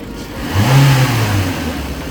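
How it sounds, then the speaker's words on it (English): A car engine revs up briefly, its low drone rising in pitch and then easing back toward idle, loud and close. "Rev the engine"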